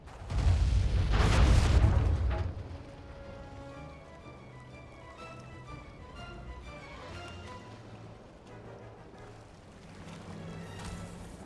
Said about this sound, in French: Qu'on charge les canons et qu'on s'apprête à faire feu.